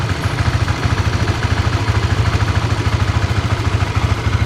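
A Honda CB150X motorcycle engine, still running smoothly after more than two years of use, idles with a steady, close, even throb of rapid low pulses.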